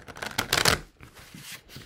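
A deck of Belline oracle cards is shuffled close up in a quick riffling burst, followed by softer shuffling sounds.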